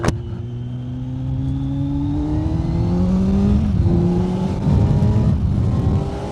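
A Kawasaki Z900 motorcycle with a Leo Vince GP Corsa slip-on exhaust drones steadily as it rides along a highway, its pitch climbing through the gears, with rushing wind noise underneath.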